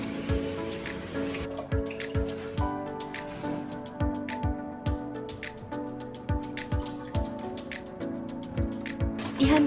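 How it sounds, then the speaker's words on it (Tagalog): Clean running water pours steadily over cabbage while it is rinsed for kimchi, with repeated splashes and drips hitting the leaves and sink in an irregular rhythm. "Banlawan ito sa malinis na tubig."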